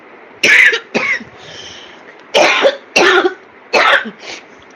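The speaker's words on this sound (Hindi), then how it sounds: "पता नहीं कैसे बहुत खांसी आ रही है मेरे" A woman coughs in short, harsh bursts, sometimes paired, spread over several seconds, close and loud, with quiet pauses between fits.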